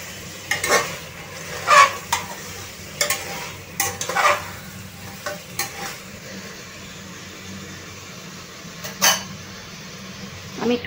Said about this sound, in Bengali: সামান্য কিছুক্ষণ নাড়াচাড়া করে ঢাকা দিয়ে দেবো